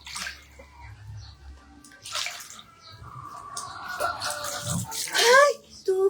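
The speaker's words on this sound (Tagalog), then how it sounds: "Ay! May tubig!" Water runs and splashes into a bathtub at home in summer, a soft broadband wash that swells louder toward the end, with excited voices and a child's chatter over it.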